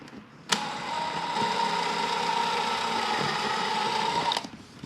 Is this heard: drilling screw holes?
yes